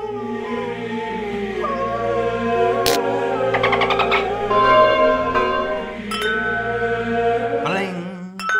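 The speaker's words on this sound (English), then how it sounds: "Sounds like a wind chime. That's the exact differential of a wind chime." A whiskey glass rings with bright, sustained chime-like tones, several clear strikes fading out over a steady background, with no talking.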